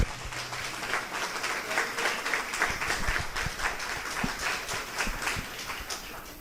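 An audience claps for a speaker at a panel discussion on Spiritist books, a lively round of clapping that swells and holds at moderate loudness.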